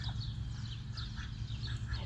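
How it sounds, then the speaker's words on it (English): A duck quacks several times, soft and fairly close, over a steady low background hum. "He's a happy duck."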